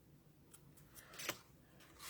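Scissors snip through craft material for an Easter treat holder, a few soft quiet cuts in quick succession, close by with no talking.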